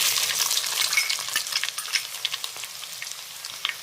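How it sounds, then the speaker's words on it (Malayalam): Chopped ginger sizzles steadily in hot coconut oil for a Kerala-style lime pickle, with mustard seeds and fenugreek already in the pan. A close, dense crackle continues without a break, and there is no talking. "അരിഞ്ഞു വെച്ചിരിക്കുന്ന ഇഞ്ചി ഇടുകയാണ്."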